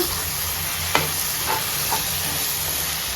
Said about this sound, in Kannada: ಇವಾಗ ಈ ಮಸಾಲ ಚೆನ್ನಾಗಿ ಮಿಕ್ಸ್ ಮಾಡ್ಕೊಳ್ಳೋಣ